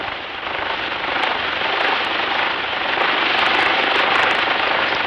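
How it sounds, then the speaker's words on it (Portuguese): A cotton harvesting machine works a field, its engine giving off a loud, steady broadband roar with no pauses. "uma colhedeira de algodão como esta realiza o serviço de 300 pessoas"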